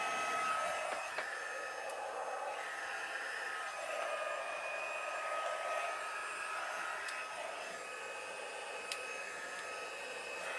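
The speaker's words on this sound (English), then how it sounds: "I'm having trouble with my heat gun. There we go. My button sticks on it. I couldn't get it to shut off." A heat gun with a sticking switch blows continuously, a steady close airy rush like a hair dryer with no break or shutoff across the whole stretch.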